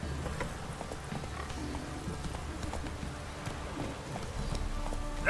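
Hooves of the horse Roach clip-clop at a steady gallop in The Witcher 3, a continuous rhythmic patter running under faint game ambience, with no voices.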